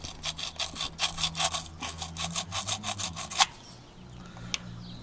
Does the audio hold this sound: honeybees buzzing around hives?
no